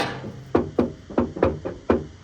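Knuckles rap six times at an uneven pace on roughly 1.5-inch-thick Bondo body filler on a car's rear quarter panel, each knock a close, dull, hollow thud.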